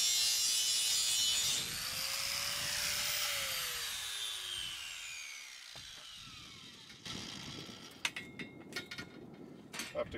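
A power saw whines through a metal bed frame, its pitch sliding down as the cut progresses, then it winds off and scattered clanks and scrapes follow.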